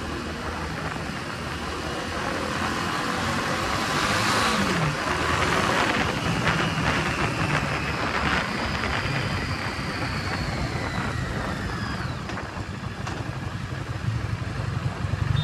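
A Harley-Davidson Street 750 motorcycle pulls hard under steady acceleration, a dense, sustained engine roar holding at a constant close level for the full stretch, with rising tonal whines sweeping through and no voice over it.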